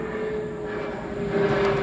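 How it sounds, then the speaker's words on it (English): A fairly low airplane passing overhead at an outdoor shooting spot gives a steady, droning engine hum with a constant tone, growing slightly louder toward the end, with no talking. "Here comes a plane."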